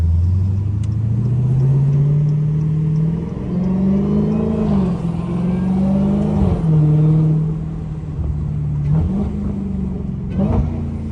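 Deep, loud rumble from a Dodge SRT Hellcat's engine, heard from inside the car as it drives, rising and falling through several revs and gear changes, the throaty tone swelling and dipping over a continuous low roar.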